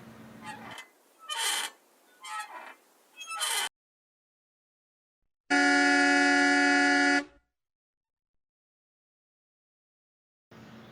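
Voices and scattered noise give way to a long, loud, steady honk of a bus horn, then silence before another sound starts at the end.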